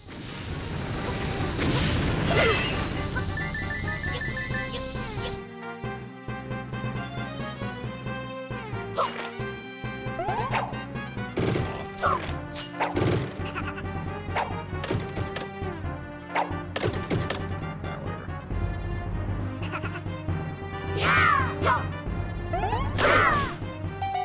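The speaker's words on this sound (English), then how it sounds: "who just throws bombs at someone, honestly?" Bombs exploding in Zelda Four Swords Adventures, a busy stream of sharp crashes and booming blasts scattered over game music and effects, with repeated loud hits throughout.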